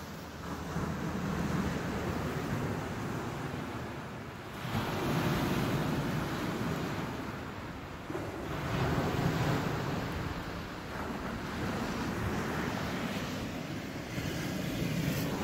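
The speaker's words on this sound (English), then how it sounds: "Watching the ocean." Ocean surf heard from a condo terrace, a steady wash of breaking waves rising and falling in slow swells, mixed with some wind rumble against the microphone and no talking.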